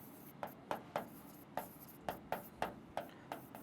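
A marker or chalk taps and scratches on a board in short, rhythmic strokes while a class table is written for a Class 7 maths lesson, close and fairly quiet.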